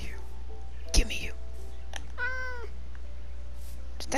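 A gray cat in Minecraft on PS4 gives a single short, clear meow, with faint whispered talk and a soft thump nearby in a quiet room.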